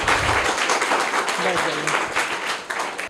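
An audience of schoolchildren and adults at a competition applauds a girl's correct answer with a burst of loud, continuous clapping, and voices are heard over it.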